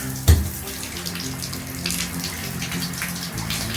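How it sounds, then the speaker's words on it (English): Water runs steadily from a newly installed tub spout with a new shower diverter, a loud, close, continuous rush that starts with a thump and carries on with no talk. "Then the water is coming out just as it's supposed to."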